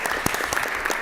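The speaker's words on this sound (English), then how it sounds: "Let's give them a round of applause anyway." Steady applause from a crowd at a town meeting, dense clapping filling the whole moment without a break.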